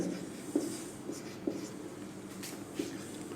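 Handwriting during a physics lesson, with soft scratching strokes and a few light taps at an irregular pace, faint and close, with no talking.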